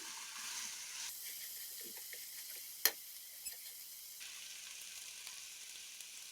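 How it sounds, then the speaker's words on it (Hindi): Sochal, a Kashmiri greens dish, frying in a pan, giving a steady close sizzling hiss with one sharp crackle partway through and a smaller pop after it. "बिल्कुल ऐसे ही हमको फ्राई करनी है।"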